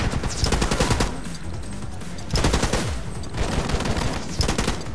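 Rifle fire from the video game The Club: loud, dense bursts of rapid automatic shots crackle in close succession, with brief pauses between volleys.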